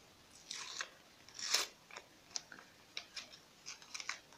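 A paper blind-bag packet of Lost Kitties toys is torn open by hand, producing faint, crisp tearing and crinkling bursts in an uneven series, with one louder rip near the middle.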